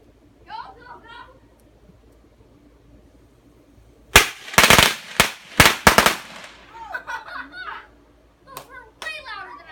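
Firecrackers set on the ground and lit go off in a rapid burst of about six loud sharp bangs, with children's voices talking before and after the explosions.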